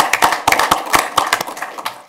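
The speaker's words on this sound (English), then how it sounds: "An applause." Brief burst of hand clapping at a Metro Fire board meeting, a small group clapping unevenly with distinct separate claps rather than a dense roar, close and fairly loud for about two seconds.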